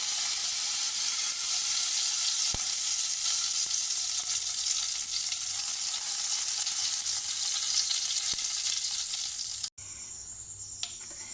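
Dried red chillies and panch phoron sizzle steadily in hot oil in a pan, a loud continuous crackling hiss that runs without a break before cutting off abruptly near the end, leaving a quieter background.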